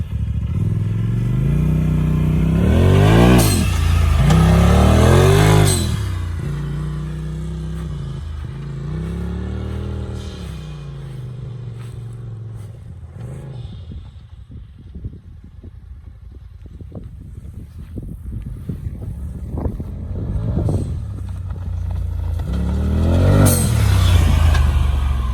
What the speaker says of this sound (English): I wanted to do a quick little drive around to show you the blow-off valve so that you can hear it.